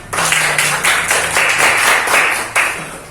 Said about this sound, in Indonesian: Terima kasih untuk Mas Isan, kita berikan tepuk tangan.